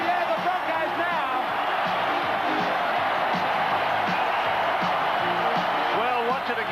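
A dense, continuous roar of a stadium crowd cheering after a try in a 1990 Brisbane versus Parramatta rugby league match, loud and sustained, with commentary running over it.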